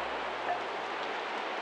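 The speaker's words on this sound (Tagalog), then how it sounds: "Mukhang di na yata titigil tong ulan na to, Eliana." Steady rain falls in a constant, soft hiss with no breaks or distinct drops, even and moderately quiet throughout.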